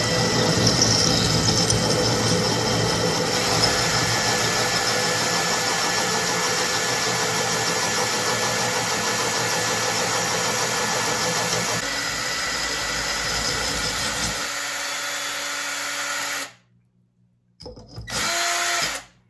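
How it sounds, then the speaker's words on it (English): A power drill grinds steadily through a glass jar under light pressure, a continuous whirring drone that runs loud and unbroken for most of the stretch, then cuts out abruptly before a brief final burst of drilling. "let the drill do its work and it'll eventually drill through"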